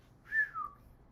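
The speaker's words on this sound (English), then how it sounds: "Yeah, that was a bad whistle." A single short two-note whistle, rising and then sliding down, sounds thin and fairly faint against a quiet room, lasting about half a second.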